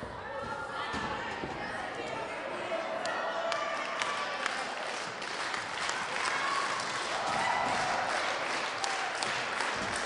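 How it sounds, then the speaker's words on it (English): A wrestling crowd at an NWA Mountain State show claps and cheers in a sustained round of applause that fills the hall, with scattered shouts and chatter mixed in and a commentator talking over it. "getting a nice round of applause"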